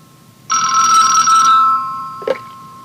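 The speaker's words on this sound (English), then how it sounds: "This morning, the phone is ringing in Mr." A telephone in an office rings once in a bright electronic trill that lasts about a second and then fades, followed by a soft click, probably the receiver being lifted.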